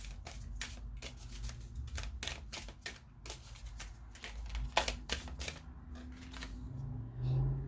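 Moonology oracle cards being shuffled by hand, a run of crisp rapid riffling clicks and flutters in irregular bursts, close and fairly loud, with a brief thump near the end.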